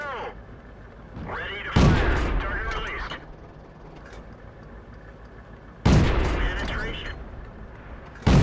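Tank guns fire in a World of Tanks battle on the El Halluf map, with two sharp, booming shots several seconds apart over a steady background and a commentator talking.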